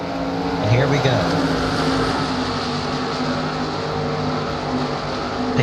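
Stock cars race under the lights on the short track at North Wilkesboro, with engines giving a loud, continuous droning roar while a commentator talks over it.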